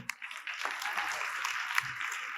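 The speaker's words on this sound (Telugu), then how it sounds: "క్లాప్స్." Crowd applause at a World Hearing Day event in Kurnool, a steady wash of many hands clapping that swells after a brief start and holds at moderate level for a couple of seconds.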